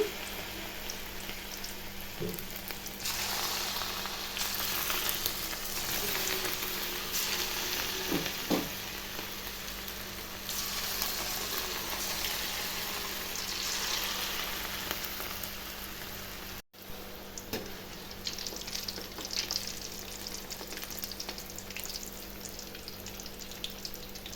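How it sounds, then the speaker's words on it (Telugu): Small punugulu fritters of bottle gourd batter fry in hot oil, a continuous rain-like sizzle with a few sharp clinks of a spoon, heard up close without talk. "ఆయిల్ అయితే వేడెక్కిందండి. ఇప్పుడు మనం పునుగులు వేసుకుందాం."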